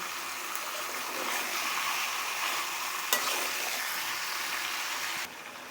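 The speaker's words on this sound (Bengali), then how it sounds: "দেখুন কষানোগুলো কি সুন্দর হচ্ছে" Chicken cooked with meat masala sizzles steadily in a pan while being stirred, a continuous close hiss with a brief clatter midway, then dropping in level near the end.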